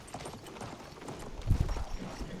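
Horse hooves clip-clop steadily in the Battlefield 1 video game, a faint rhythmic trot under low battlefield ambience that swells briefly near the middle.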